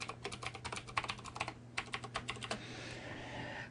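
Rapid bursts of computer keyboard keystrokes entering an administrator password, quick clustered taps in two runs separated by a short pause, close and clear with no talking.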